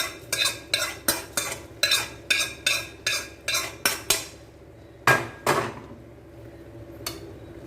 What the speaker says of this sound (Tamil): இப்போ இந்த ஸ்டேஜில் நம்ம தாளிச்சதை கொட்டி கடைக்கலாம்